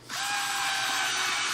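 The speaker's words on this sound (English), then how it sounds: "it's just like an electric screwdriver" A small electric screwdriver whirs steadily at high speed, loud and close, starting abruptly and holding a constant buzzing pitch with no pauses.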